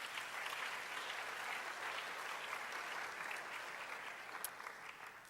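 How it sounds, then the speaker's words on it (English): An audience at a scholars program event applauds Congressman Rogers in a sustained, even round of clapping, faint and distant-sounding, with no talk over it. "we owe him a huge round of applause again"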